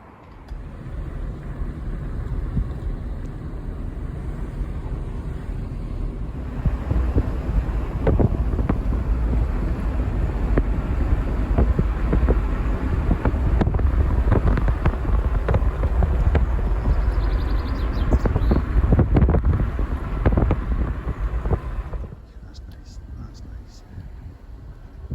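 Gusty wind on a beach where seaweed is gathered for compost, roaring across the microphone with a low rumble that swells after the opening seconds, holds strongly, then eases near the end.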